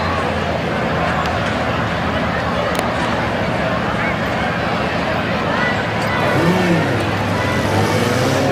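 A rough truck's engine roars steadily at a county fair rough truck course, loud and continuous with rising revs, mixed with crowd babble and an announcer's voice over it.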